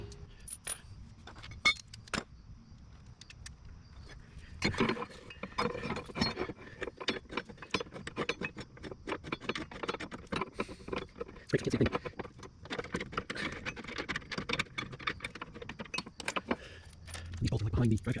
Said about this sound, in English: using some of the supplied bolts, attach the bracket to the skid plate